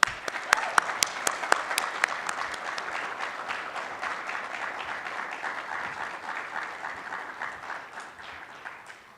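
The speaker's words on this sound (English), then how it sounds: "Let's give another round of applause for all of our honorees." Audience at an Urban League of Middle Tennessee Group Violence Intervention Conference applauding its honorees: a few sharp, scattered claps swell into dense, sustained clapping that gradually fades, filling the room from nearby.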